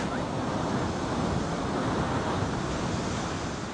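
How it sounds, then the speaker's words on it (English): Strong ocean waves washing in onto a shore, a dense, continuous roar of surf mixed with wind buffeting the microphone, steady and close throughout. "you know the water comes in"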